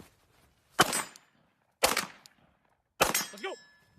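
Three sharp gunshots at targets during a shooting drill, spaced about a second apart, each a loud crack with a short ringing tail against otherwise quiet surroundings.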